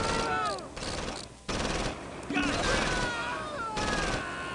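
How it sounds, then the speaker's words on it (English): Busy battlefield gunfire from the Close Combat strategy game on the Normandy hedgerows, a dense continuous clatter of mixed shots and bursts, with someone talking over it throughout. "We just got all kinds of crazy fire going on everywhere."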